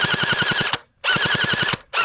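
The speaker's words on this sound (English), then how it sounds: "These 200 FPS shots definitely have very competent ranges." Unlocx V2 gel blaster pistol firing rapid bursts of sharp, evenly spaced shots at 200 FPS, two loud close volleys separated by a short pause, with no talking.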